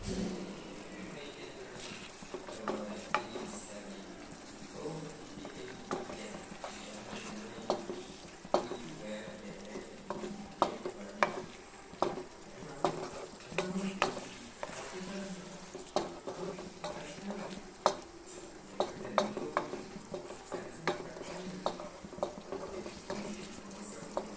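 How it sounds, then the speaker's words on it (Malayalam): A pan of egg curry bubbles and sizzles steadily throughout, with occasional clinks and scrapes of stirring nearby. "നന്നായി തിളച്ച് വന്നിട്ടുണ്ട്"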